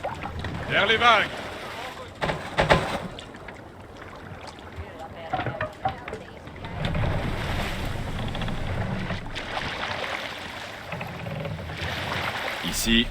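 A Viking longship rowing at sea in wind in Assassin's Creed Valhalla, with gusting wind, water wash and creaking wood, heavier rushing toward the end, and voices talking at times.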